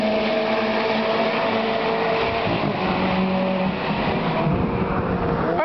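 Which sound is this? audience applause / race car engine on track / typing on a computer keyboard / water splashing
race car engine on track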